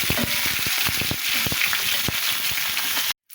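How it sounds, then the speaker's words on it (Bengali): Sliced pointed gourd frying lightly in hot oil in a pan, a dense steady sizzle and crackle with small pops throughout, close and continuous until it cuts off abruptly. "এখন আমি পটলগুলো হালকা করে ভেজে নেব"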